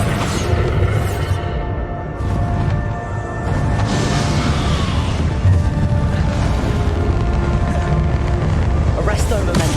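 Spell explosions and magical combat blasts from the Hogwarts Legacy final boss fight, booming rumbles and crashes layered with sustained tonal effects and music, with a voice casting spells over the action.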